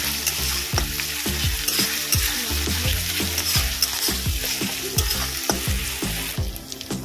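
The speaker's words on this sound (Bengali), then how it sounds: "আমি এর মধ্যে দেবো 1 চামচ পরিমাণে আদা রসুনের পেস্ট। এটাকেও ভালো করে ভেজে নেব" Ginger-garlic paste fries in a pan with a steady, close sizzle, while a spoon scrapes and taps against the pan in a regular stirring rhythm. No one speaks.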